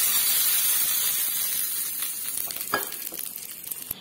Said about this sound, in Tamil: ஒரு காஞ்ச மிளகாயை கிள்ளி போட்டுறேன்